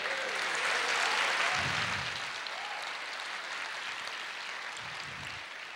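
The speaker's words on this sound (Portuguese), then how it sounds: "Você pode aplaudir o Senhor e dizer glória a Deus?" A church congregation applauds during a sermon, a soft, steady wash of clapping heard from a distance, with a couple of low muffled thumps underneath.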